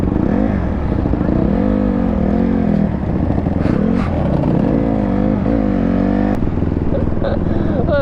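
A Honda 450 motorcycle engine, fitted as a swap into a quad, runs steadily and loud with a few rising revs throughout, while people talk over it.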